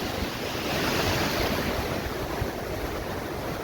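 Sea waves wash onto a Konkan beach in a steady, roaring surf, with wind buffeting the microphone throughout and no voices.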